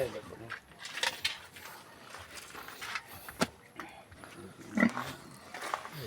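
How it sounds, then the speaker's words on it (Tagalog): A pig on a farm grunts a few times against a noisy outdoor background, with people talking nearby. "Ito na yung baboy."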